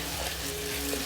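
Fatty lamb and beef mince sizzles in a hot pan, a steady close crackle and hiss with faint low tonal hum underneath, heard on its own.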